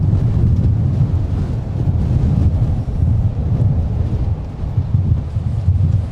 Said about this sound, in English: this wind has just been